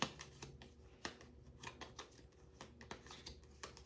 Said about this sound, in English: We're going to shuffle the initiative deck here